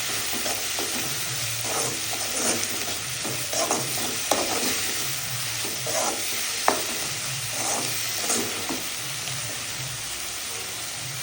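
Onions and tomatoes fry in a pan with salt for a Tamil urundai kuzhambu (lentil-ball curry), a spoon stirring in a steady rhythm of scrapes and clacks over a constant close sizzle, with no talking.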